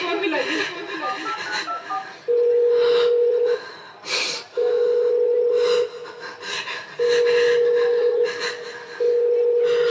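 An unanswered phone call rings out in repeated steady tones with short gaps, heard over quiet background speech at a school event stage.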